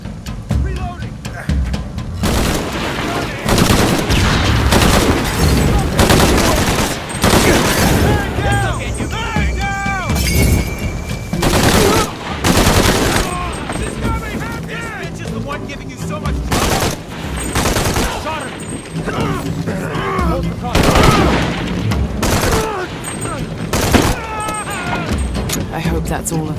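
Dense, continuous gunfire in Shadow of the Tomb Raider, with overlapping shots and bursts, sits under frequent voices talking and shouting.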